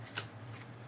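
A deck of tarot cards being shuffled, a single soft riffle burst close by and very quiet, with faint room hum underneath.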